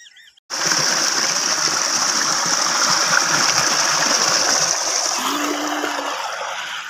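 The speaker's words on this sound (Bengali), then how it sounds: "এই জলটা আমাদের জমিতে দেওয়া হচ্ছে।" Irrigation water pours steadily into a ridge gourd field, a continuous close rushing flow that starts abruptly and keeps on, with a faint low hum near the end.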